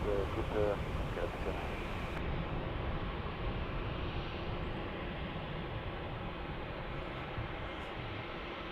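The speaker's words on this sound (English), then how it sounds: "That's about as smooth as you can make that landing there on the Dreamliner" A Boeing 787 Dreamliner rolling on the runway after landing, a broad steady roar of engine and wind noise that slowly eases, heard from a distance with a voice talking over it.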